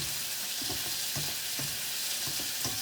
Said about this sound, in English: it's not going to get as brown as if you were just sauteing in a saute pan